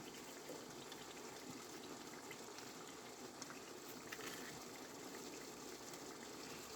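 Steady running water gushes continuously from a tap as peppers are washed under it, a constant rushing stream at moderate level with no speech.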